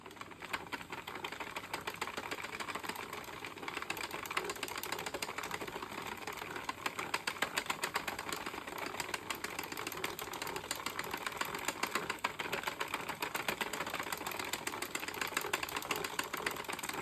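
An Addi or Sentro circular knitting machine being cranked through rows of a striped ear warmer, producing a fast, steady stream of close mechanical clicks and rattles that continues without pause.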